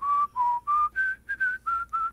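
Whistling from the video game Zeus: Master of Olympus, a series of about eight short, steady tonal whistle notes in a clean, even rhythm, each note held briefly with slight pitch changes from one to the next.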